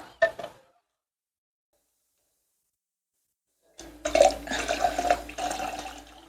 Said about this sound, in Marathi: पाणी बाहेर येत आहे पण निंब पाणी खालीच सांडते नो यूज सगळं पाणी खाली सांडलंय